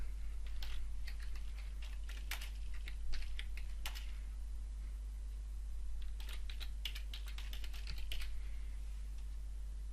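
Steady typing on a computer keyboard while entering group notes in online software, bursts of close, crisp key clicks with brief pauses, no talking.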